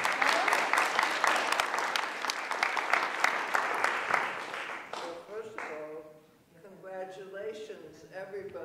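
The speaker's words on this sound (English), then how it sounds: "I think she deserves another round of applause" Applause from an audience at a panel discussion, steady clapping for several seconds before it dies away and a voice begins speaking.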